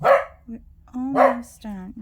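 A dog barks sharply two or three times nearby while a person speaks briefly.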